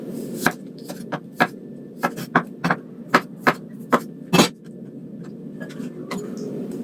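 A knife slices garlic into thin slices on a cutting board, about a dozen crisp, close taps in an uneven rhythm over a low background hum.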